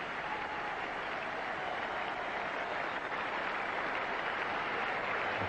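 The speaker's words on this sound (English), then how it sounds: "Applause from all around the ground." Steady applause from the crowd spread around a cricket ground during an Australia versus South Africa Test match, a continuous broad wash of clapping held at an even level for several seconds with no voices over it.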